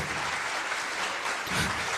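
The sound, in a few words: audience applause at live concert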